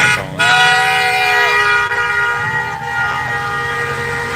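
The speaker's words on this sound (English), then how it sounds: "I'm gonna ride through and bump my horn" Car horns honk at a street protest, several sustained toots overlapping near and loud, a long blast followed by shorter repeated honks over idling traffic.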